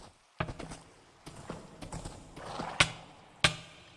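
A horse moving in Minecraft, with scattered soft hoof thuds and several sharper clacks at an uneven pace over a quiet background.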